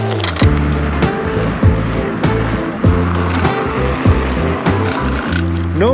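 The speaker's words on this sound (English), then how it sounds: "it's a loud scooter." A loud rolling rumble of a YUME X11 electric scooter riding over pavement, with regular clacks from bumps or seams and a whining motor underneath.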